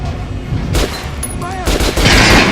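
Gunfire in the video game Metro Last Light, several loud sharp shots in quick succession with game sound effects between them, close and punchy.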